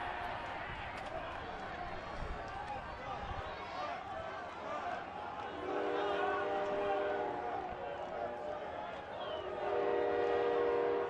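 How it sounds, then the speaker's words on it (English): A train arrives and sounds its horn during an April day-night baseball doubleheader, sustained horn tones rising over crowd murmur and a steady rumble, with talk present. "Trains arriving, George."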